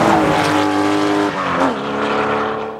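The Growler car's engine roars loud and close, revving with strong harmonic growl and a brief dip before climbing again, alone without talk.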